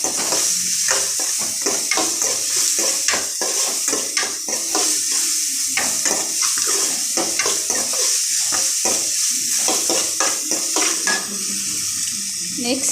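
Ginger garlic paste being sautéed for beans kurma, a steady close sizzle with frequent scraping and stirring clicks of a spoon against the pan throughout.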